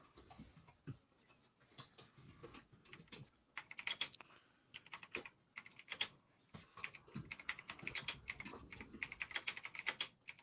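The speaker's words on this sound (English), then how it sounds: "that's my keyboard" Someone types on a computer keyboard, a quiet, close run of rapid key clicks that grows busier and denser partway through.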